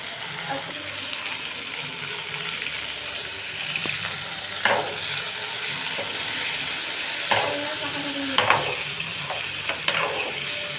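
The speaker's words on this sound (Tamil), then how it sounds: "இப்போ நல்லா வதக்கி தக்காளி போடலாம் ஃப்ரெண்ட்ஸ்" Tomatoes fry in a pan for thakkali thokku, a moderate sizzle under repeated stirring and scraping with a few louder clanks, no one talking.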